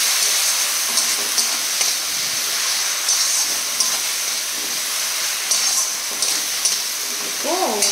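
Ginger-garlic paste frying in a pan, a steady close hiss and sizzle running throughout with brief bursts of crackle, for a Bengali home-cooked mutton dish.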